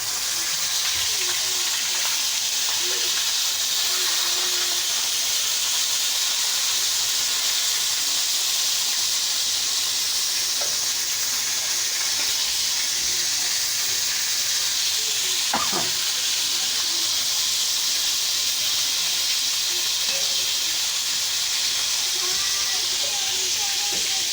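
Crab pieces frying in a hot pan give a steady, loud sizzle and hiss that runs throughout, with occasional stirring clatter and a brief sharp knock near the middle.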